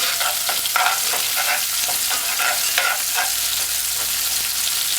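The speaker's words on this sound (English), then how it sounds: "Stir this for 5 seconds" Pimento seeds and dried herbs being stirred in a hot frying pan for a Jamaican salt mackerel run dung, with a steady sizzle and repeated scraping stirs close up.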